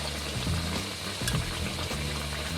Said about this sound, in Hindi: अब हम इसमें लहसुन और अदरक का जो पेस्ट हमने बना के रखा है वो डाल लेते हैं।